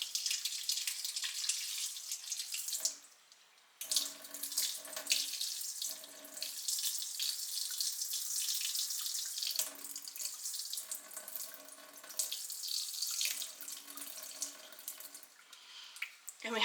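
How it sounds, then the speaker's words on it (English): Water pours and splashes steadily off a tomatillo seed mixture in a blender cup, briefly stopping and resuming several times with trickling and dripping between pours. "So we're just going to start pouring off that mixture."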